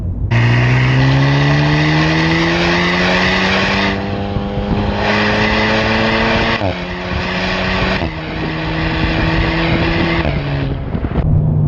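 An Alpine A110 sports car engine revs loud and close, climbing through several gears in a series of rising pulls with brief dips at each shift, clear of any talk.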